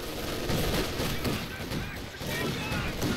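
Machine gun fire and battlefield gunfire from the Company of Heroes 2 strategy game, a continuous dense rattle of shots and explosions running under a commentator's voice throughout.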